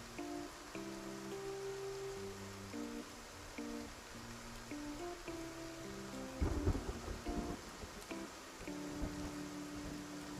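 A thunderstorm with steady rain hisses through a scene in the video game Once Upon a Frame, with a rumble of thunder midway under soft piano music.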